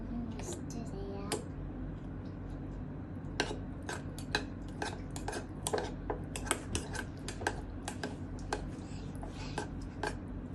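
A spoon stirs curd salad in a bowl, giving a run of light, quick clinks and scrapes at an uneven pace over a quiet background hum, close and fairly soft.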